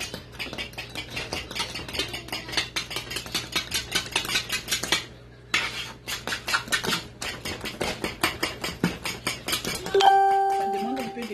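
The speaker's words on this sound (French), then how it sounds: "je mélange bien avec le jumblé." Rapid, close clicking and scraping from a spoon stirring dried okra powder sauce (djoumblé) in a pot, with a short pause midway and a sustained electronic tone at the end.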